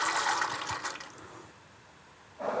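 Soaked cannellini beans tumble with their water into a soup pot for a winter minestrone, a close wet pouring splash that fades out, followed by a brief second splash at the end.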